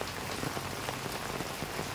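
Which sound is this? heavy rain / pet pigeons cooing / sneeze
heavy rain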